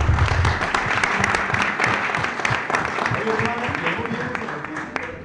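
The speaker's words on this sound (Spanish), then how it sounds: "Felicidades y un fuerte aplauso a todos," A crowd applauds regional second-prize winners at a hat fair, with loud, dense clapping that starts strong and gradually fades over about five seconds.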